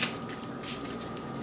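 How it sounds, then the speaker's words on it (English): A quick riffle of Magic: The Gathering cards shuffled close up, a dense rapid flutter of card edges lasting just over a second, no voices. "and then shuffle it back in"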